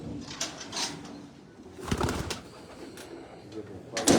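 A pigeon held among a breeder's birds coos in a few short, low bursts, mixed with rustling and nearby voices.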